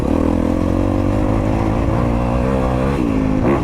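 A 2022 Honda CRF250RX dirt bike engine revs loud and close, with its pitch shifting and dropping as the rider changes down a gear.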